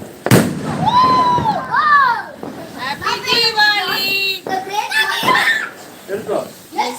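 Diwali firecrackers burst with sharp pops amid excited children's chatter and shouting, with a few cracks standing out loudly over the voices.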